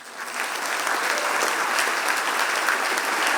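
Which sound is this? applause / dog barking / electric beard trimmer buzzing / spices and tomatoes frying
applause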